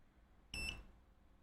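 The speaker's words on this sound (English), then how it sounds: "Beeps for a second, but then goes away." A single short electronic beep from a Black Corporation Kijimi MCU with a grounding problem, high-pitched and fairly faint, lasts about a quarter second against near silence.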